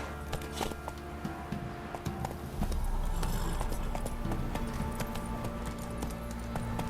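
A horse's hooves clip-clop at a steady running pace in The Witcher 3: Wild Hunt, continuous and fairly close, growing slightly heavier partway through.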